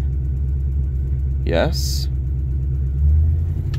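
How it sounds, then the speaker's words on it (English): Steady low rumble of an idling V8 engine in a Ford Ranger during a fuel system upgrade and tune, running continuously while a voice speaks briefly once in the middle. "Key on, engine running."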